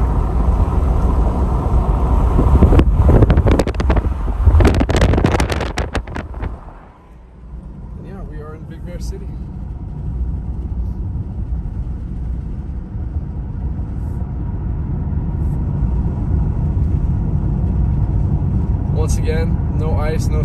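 A car cruises at about 40 mph on a snow-free road in Big Bear, giving a steady rumbling road and engine drone while someone talks over it.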